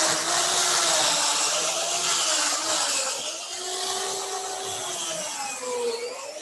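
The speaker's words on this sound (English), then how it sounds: "This is a chainsaw. This is what we use to cut out the outside." A regular wood chainsaw cuts ice for live ice carving at a winter soiree, its loud, close engine whine wavering in pitch as the blade bites, with a rough, gritty cutting hiss underneath.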